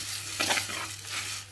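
Curry leaves are dry-roasted in a pan and stirred, giving a short close burst of scraping and crackling over a low steady hum.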